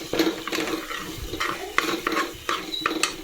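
Biryani masala and rock salt being stirred in a pressure cooker, a repeated scraping of a spoon against metal with soft sizzling, close and brisk, with no talk.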